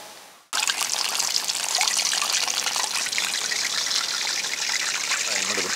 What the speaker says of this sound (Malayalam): എന്നിട്ട് നമുക്ക് നേരെ എണ്ണയിലേക്ക് ഇട്ട് കൊടുക്കാം.